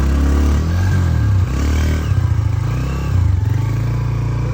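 A motorcycle engine revs loudly and close by on a sandy riverside track beside the Indus, with a steady low throb that rises and falls and some rattling clatter.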